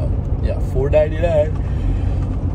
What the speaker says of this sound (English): Driving through the Cascades at the moment.